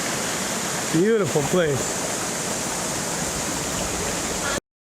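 Charco Prieto waterfall in Bayamon, Puerto Rico, pours into a small pond in a steady, broad rushing hiss that carries throughout, with people talking briefly over it near the start.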